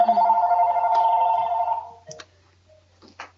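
A mobile phone ringtone sounds loud and steady for about two seconds, then stops, followed by a few faint clicks and handling noises as the phone is moved.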